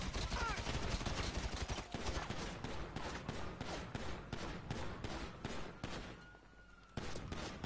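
Rapid bursts of gunfire in the video game GTA V, including machine-gun volleys and scattered single shots, crackle densely and loudly for several seconds.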